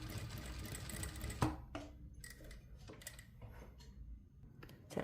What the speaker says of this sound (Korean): 똑같이 목 전체를 한 바퀴 삥 둘러서 스티치